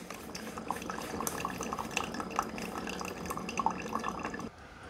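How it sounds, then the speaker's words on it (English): Quiet, irregular drips and trickling of liquid over a soft background hiss as a Beautiful Perfect Grind programmable coffee maker brews nearby. "so the coffee is starting to come out"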